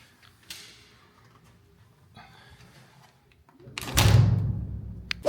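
Doors are closed with faint scrapes and a soft creak, then a louder rolling, rumbling slide lasting about a second, ending in a sharp thud.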